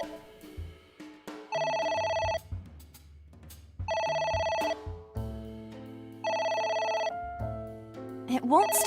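A telephone rings in repeated bursts inside the video game AI: The Somnium Files, several loud electronic rings spaced by short pauses over a background of game music.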